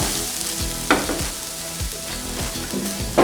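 Onions frying in a pan for beef samosa filling, with a constant loud sizzle and a few soft scraping stirs, heard up close with no talking.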